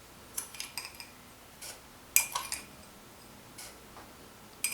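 A teaspoon scoops sugar for mojitos, giving several faint, light clinks and scrapes in irregular bursts against a quiet background.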